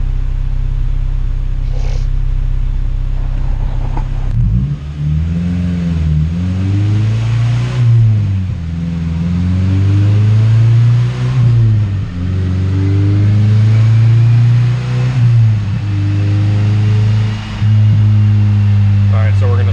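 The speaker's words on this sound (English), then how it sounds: "let's get some throttle sweeps done on the low cam" Honda CR-V with a naturally aspirated B20V engine revving repeatedly on a dyno during low-cam throttle sweeps, loud and close, with the engine note rising and falling in several long pulls after an idle start.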